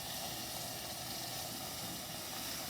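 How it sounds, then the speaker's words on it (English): Beef stock added a little at a time to a very hot roux makes a steady, unbroken sizzling hiss that stays constant throughout, with no talking. "we're going to add the beef stock to it a little bit at a time. It's so hot, it'll want to flare up"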